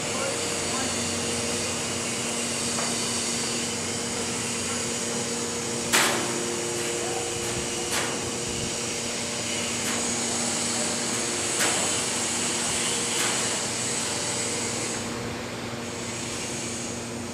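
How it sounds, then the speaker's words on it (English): A WSS Mini 3-man sorting system runs steadily, its 20-foot, 30-inch-wide belt conveyor driven by a 1-horsepower three-phase electric motor on a variable frequency drive, making a loud constant mechanical drone and hum with a few clanks. "20-foot long conveyor, 30-inch wide belt"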